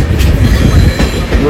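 Crowded moving passenger train on the Hyderabad to Mahabubabad route, a loud close rumble with rattling wheel clatter and a faint squeal, heard from inside the carriage.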